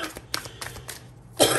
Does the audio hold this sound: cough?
yes